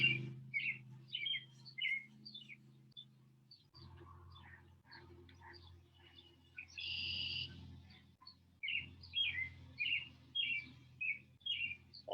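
Birds chirp outdoors near a house pool, repeated bright short calls in bursts with pauses between, moderately close over a low steady background hum.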